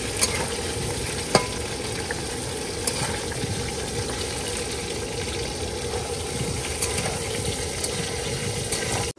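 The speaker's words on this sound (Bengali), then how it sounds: "ফোড়ন দিয়ে দিলাম, মাংস দিয়ে দিলা" Chicken frying and being stirred with spices in a pan, a steady dense sizzle with scraping stirs and occasional sharp clinks from the utensil, close and continuous throughout.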